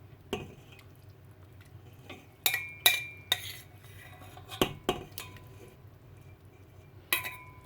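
Tomato paste sautéed in oil in a pan, with scattered clinks and scrapes of a utensil against the pan and soft sizzling between them, close and sparse.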